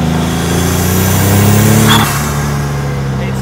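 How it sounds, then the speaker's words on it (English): Turbocharged Ford EcoBoost engine in a Formula Ford race car accelerates loudly and close, a continuous rising drone with whistling turbo overtones, swelling briefly before settling. "Turbo noise?"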